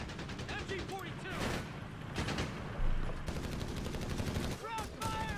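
MG-42 machine gun fire in the video game Company of Heroes 3 rattles steadily through a busy battle mix with other gunfire, while voices shout over it.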